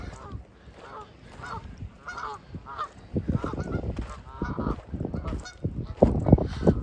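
A flock of geese blocking a path honks repeatedly and close by, with overlapping nasal calls growing louder and busier, mixed with rustling and footsteps outdoors in February.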